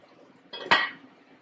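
A small cooking pot gets handled, giving a single short metallic clank with a quick scrape just before it. The sound is close and clear against a quiet room.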